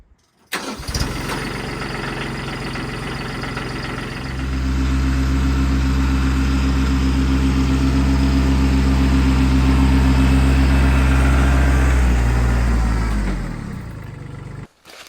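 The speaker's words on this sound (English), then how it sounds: "So I'm going to use the tractor." A tractor engine starts with a sharp crank, settles into a loud steady idle, then revs up to a higher sustained roar for several seconds before cutting off abruptly, close by with no talking.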